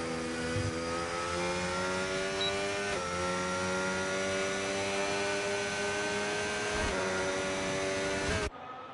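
An Aston Martin Formula 1 car in an online racing game lapping the Australian circuit, its high, steady engine whine climbing through gears with brief shift dips before cutting off abruptly.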